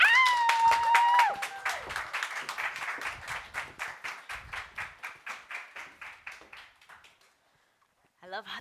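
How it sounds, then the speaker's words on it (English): An audience clapping in rhythm at a design talk event, sharp regular claps that start loud and gradually thin and fade to silence, opening over a voice speaking and followed briefly by talk again. "I love the intensity of the clapping"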